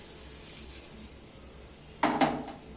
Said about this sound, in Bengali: চিনিটা দিয়ে এইবার আমি নাড়তে থাকবো